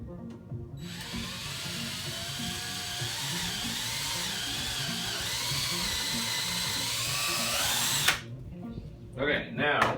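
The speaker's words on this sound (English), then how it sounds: "So we'll drill a hole in the piece of wood," A power drill whines steadily for several seconds as it bores a hole through a piece of wood, its pitch shifting under load, then stops, followed by brief handling noises.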